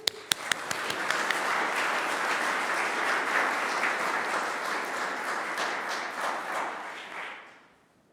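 Audience applause welcoming a singer back to the stage at the 2025 Gaelic Nova Scotia Month launch event: dense, steady clapping from a crowd that holds for about seven seconds, then fades out.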